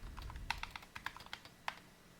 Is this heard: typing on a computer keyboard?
yes